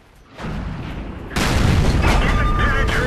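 A tank gun shell striking the side of a turret in the video game World of Tanks, a sudden loud boom after a short rising rumble, followed by sustained crashing noise and a commentator talking over it.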